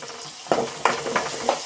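Onions with ginger-garlic paste frying in oil in a pan for gizzard chicken, a brief close sizzle punctuated by three or four sharp stirring scrapes, no talk.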